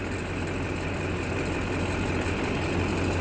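A stock 2001 Chevrolet Silverado 2500 LT 4x4 with the LB7 Duramax diesel idles after a cold start, making a steady, loud, even rumble that holds unchanged throughout with no voices.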